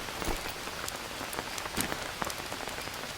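Rain in a tropical jungle survival game, a steady patter of drops on surfaces with scattered sharper splats over a soft continuous hiss, moderate and even throughout.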